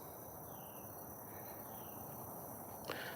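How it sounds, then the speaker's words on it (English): Crickets and birds chirp outdoors in a peaceful setting, a faint steady insect trill running throughout beneath soft scattered bird calls, with a brief clatter near the end. "Birds, crickets."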